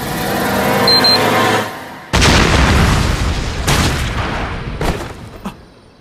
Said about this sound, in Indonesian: Tiba-tiba, sebuah bom terbang meluncur ke arah komodo dan meledak menghancurkannya.